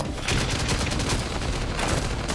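Sustained bursts of gunfire in a zombie survival video game, loud, close, dense shots rattling almost continuously with brief dips between volleys.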